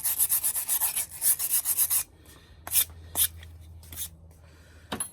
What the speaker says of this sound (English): This is what it's for, to clean the file.